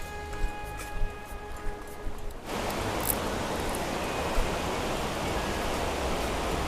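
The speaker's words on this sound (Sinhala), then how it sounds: "ඕ දියැලි තියෙන තැන." A waterfall in Sri Lanka roars as a dense, steady rush of falling water. It swells in after a quieter opening and then holds loud and unbroken.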